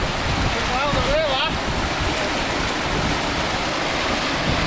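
Heavy water rushing and pouring across a wet Peak District moor in foul weather, a steady loud broadband wash with wind buffeting the microphone throughout, and a brief whistle-like tone partway through.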